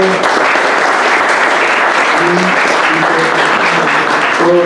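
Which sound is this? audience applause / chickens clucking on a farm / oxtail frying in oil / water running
audience applause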